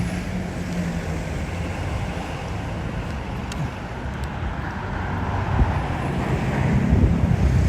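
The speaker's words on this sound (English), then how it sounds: "Hear the wind now." Strong wind roars across a Tokyo street near Takadanobaba in the cold, a continuous low buffeting rumble that swells toward the end, with faint traffic underneath and nobody speaking.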